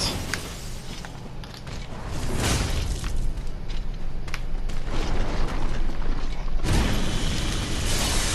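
Weapon art attack in Dark Souls 3, with loud continuous grinding, mechanical clanks and heavy impacts that surge into booming hits partway through, dense and close throughout.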